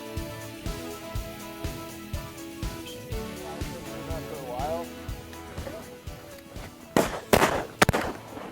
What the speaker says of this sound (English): Good shot, Parker.